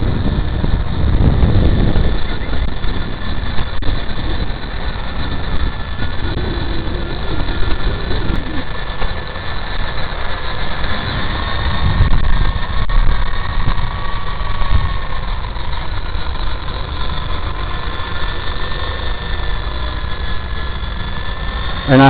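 A Wtoys V913 large RC helicopter flies with a steady, droning motor and rotor whine that holds a near-constant pitch, close and continuous throughout, with slight shifts in intensity.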